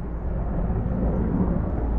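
A water-carrying firefighting helicopter roars overhead in Calabria, a dense low rumble that holds steady and fairly loud throughout, with no voices.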